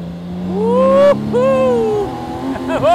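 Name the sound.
BMW K1600 Grand America motorcycle engine revving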